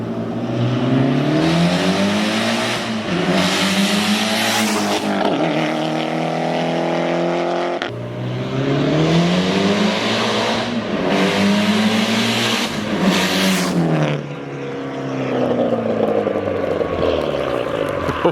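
Mitsubishi Evo X engine revving hard and accelerating, loud and close, with repeated rising pulls that peak, cut off, and climb again through several cycles without any voices.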